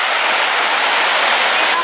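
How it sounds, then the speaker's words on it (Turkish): Rushing water from a stream and waterfall in a natural setting, a loud, close, continuous hiss and roar that stays constant throughout, with no voices. "doğanın bu su sesi insanı ne kadar ferahlatıyor"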